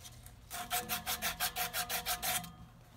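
Sandpaper sanding a part while replacing an X-13 blower motor in an ICP air handler: about a dozen rhythmic back-and-forth rasping strokes, close and steady, with no talking.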